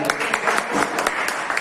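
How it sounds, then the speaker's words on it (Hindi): An audience at a school farewell ceremony claps in a brief burst of applause, with a voice speaking over the clapping. "जोरदार तालियां भैया।"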